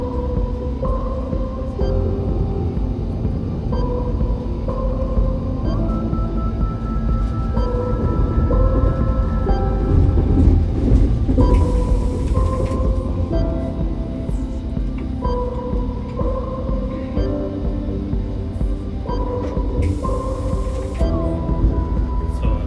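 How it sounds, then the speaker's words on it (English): Steady low rumble and rolling wheel noise fill a first-class carriage of an ICE International train running from Brussels to Cologne, with faint repeating tonal hums and occasional brief clicks over the constant drone. "For the time being, let's enjoy this train trip."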